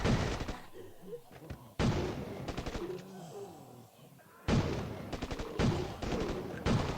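Gunfire in the mobile survival game State of Survival comes as rapid bursts of sharp automatic shots in loud clusters separated by quieter pauses, with someone speaking in between.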